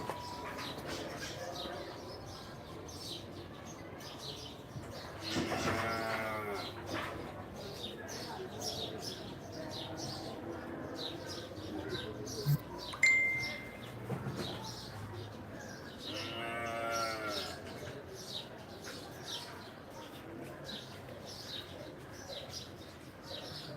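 Cattle at a small dairy farm low out in a few long, loud moos that rise over steady talking, with pigeons cooing faintly in the background.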